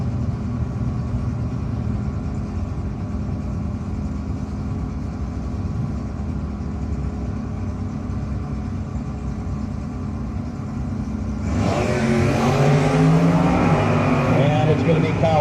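Drag racers launch at a no-box 660 shootout, including a 1968 Super B. A steady engine drone runs under announcer commentary, then a loud roaring burst of hard acceleration erupts near the end.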